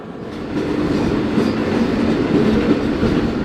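Close up, from aboard a freight train rolling through Mexico, a loud, continuous rumble of wheels on rails with rhythmic clatter fills the whole stretch.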